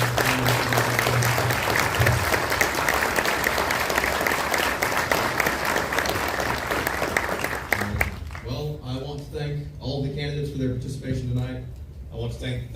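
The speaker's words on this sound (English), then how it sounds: "can I get one really big round of applause for this phenomenal family?" Sustained applause from a large audience at a county sheriff debate, dense clapping that fades out near the end, leaving a few scattered voices and some music-like tones.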